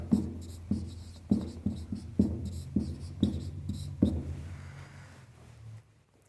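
Chalk or marker writing a maths equation on a board, a steady series of scratchy taps and strokes close by, with no talk during the strokes.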